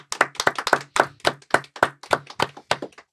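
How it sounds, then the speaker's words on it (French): A small audience claps for a visiting Canadian film producer, with sharp, close handclaps in a quick, fairly even rhythm that sounds like only a few people. "Je pense qu'on peut l'applaudir."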